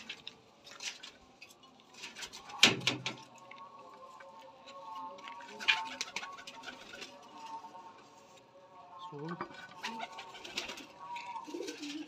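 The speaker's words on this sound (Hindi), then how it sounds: "अब इंशाल्लाह आगे छोड़ते हैं कबूतर" Pigeons, some marked with colored dye after flying in a contest, are let go outdoors, giving soft coos and occasional sharp wing flaps and patters close by over a quiet background, with no talking.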